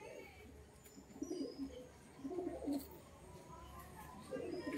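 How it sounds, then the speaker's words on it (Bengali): A mated pair of pigeons, male and female, coo softly at night in a rain-damp loft, with low repeated coos in a few spaced bouts against a quiet background. "অসাধারণ এক জোড়া পায়রা।"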